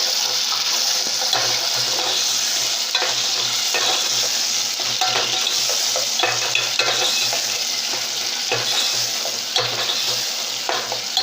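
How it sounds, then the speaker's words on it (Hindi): Chopped tomatoes sizzle steadily in a pan of browned onions over medium heat, with repeated scraping strokes of a spoon stirring them, close and continuous without talk. "अब इसमें हम डालेंगे 2 छोटे, जो हमने टमाटर चॉप करके रखे हुए थे,"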